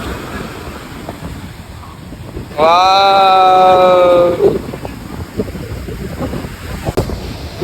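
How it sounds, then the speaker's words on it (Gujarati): Sea waves wash onto the beach at Diu, a broad rushing surge buffeted by wind noise, with a loud sustained tonal call or shout briefly cutting over it midway. "મોજા આવે છે ને જાય છે"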